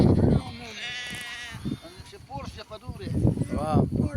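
Goats on a traditional sheep farm bleat in wavering calls while waiting to be milked, with several cries close by, mixed with people talking and other farmyard noise.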